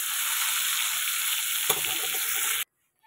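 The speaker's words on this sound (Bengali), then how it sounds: "এটাকে একটু লাল লাল করে ভেজে নেবো, ভাজাটা হতে থাকুক" Pointed gourd (potol) fries in hot oil with a steady, bright sizzle close by, one small clink partway through, before the sound cuts off abruptly.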